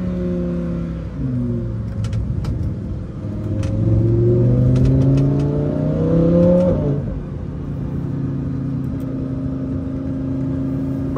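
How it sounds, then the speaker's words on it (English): Lamborghini Huracán exhaust burbling close by as the engine revs and settles, a dense rumble of crackles and pops over a steady engine drone, loud and alone without voices. "These burbles sound amazing."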